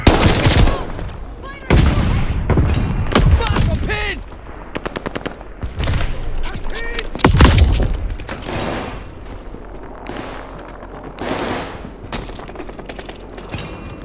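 Repeated bursts of M1A1 Thompson submachine gun fire in the video game Call of Duty Vanguard, loud, close, rapid automatic volleys with brief pauses and scattered battlefield noise between them.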